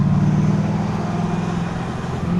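A BMW E30 V8 engine drones loudly and continuously with a strong low hum, holding a fairly constant pitch throughout, no voices.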